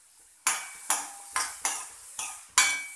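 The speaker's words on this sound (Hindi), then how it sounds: "इसे अब हम अच्छी तरह धीमी आंच पर भून लेंगे" Chopped onion and garlic being sautéed over a low flame, with a utensil scraping and stirring the pan in about six regular strokes, each a bright scrape that fades, close and alone without talk.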